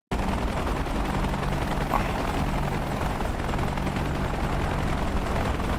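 Helicopters on a landing pad in the DCS World combat simulation make a constant, loud rotor and engine drone that fills the whole stretch, with no speech over it.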